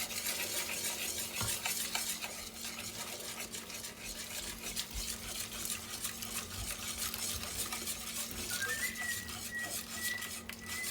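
Hot milk and onion sauce being stirred in a pan for a leftover chicken fettuccine Alfredo, with a steady scraping swirl of the utensil, soft clinks and a faint sizzle throughout, no voices.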